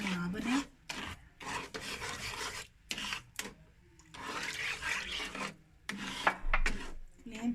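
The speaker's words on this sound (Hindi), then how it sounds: "इसको हिलाते जाएंगे ताकि इसकी गुठलियाँ जो है वो ना बने।" A sweet bread roll mixture stirred in a pan on the stove, a steady scraping and rubbing of the spoon against the pan in repeated strokes with short pauses, close and fairly quiet.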